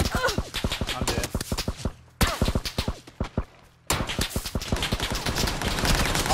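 Dense, loud bursts of rapid gunfire from several players at once fill a video game fight, broken by two short silent gaps before the volleys resume.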